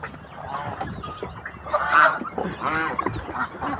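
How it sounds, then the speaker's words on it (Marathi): Geese honk loudly in repeated bursts, several calls overlapping, with a livelier cluster of honks near the middle, at a poultry farm in Shirwal also keeping turkeys and guinea fowl. "इकडं राजहंस आहेत"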